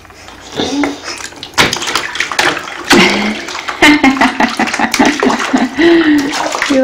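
A young child splashes in bathwater at home, making irregular slaps and sloshes at close range, mixed with voices and squeals.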